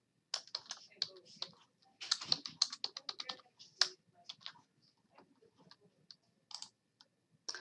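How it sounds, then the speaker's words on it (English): Login credentials are typed on a computer keyboard for an online payment portal, with quick bursts of close, crisp key clicks, short pauses between runs, and a final few scattered taps. "Type in your credentials."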